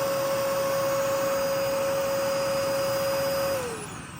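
A vacuum cleaner powered from a solar battery and inverter setup runs with a steady loud whine and hum, then is switched off and winds down at the end.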